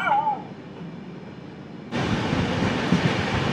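The CSMT Duranto Express runs at about 126 km/h. A quieter interior hum is broken by a faint squeal, then the roar and rattle of the train at speed surges in abruptly and stays loud and continuous.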